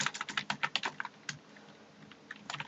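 Typing on a computer keyboard while entering text into a document text box: a quick run of close, crisp key clicks, a pause with a few scattered taps, then another short burst.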